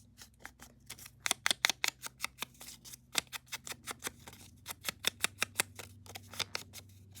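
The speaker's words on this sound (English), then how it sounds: "whatever hangs over, I'm just going to snip away because these flowers are a little wide" Scissors snip through overhanging paper flowers in a papercraft project, a close series of crisp, quick cuts that come in uneven bursts with short pauses between them.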